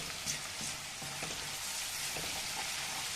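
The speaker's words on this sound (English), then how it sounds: "So now the onions are kind of fried well." Onions sizzling in hot oil in a pan for masala vegetable upma, a steady close frying hiss with occasional soft stirring scrapes and no talk.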